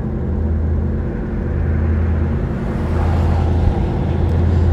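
A 1935 Horch 850 Sport climbs a hill in fourth gear, giving a steady, heavy low engine drone with rumbling road noise, continuous and fairly loud throughout, no voices.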